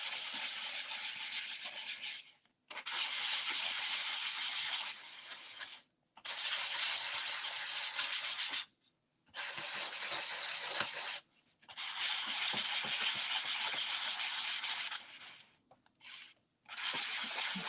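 Steady rasping of sandpaper rubbed back and forth in long strokes, broken by short pauses; close and fairly quiet, with no talking.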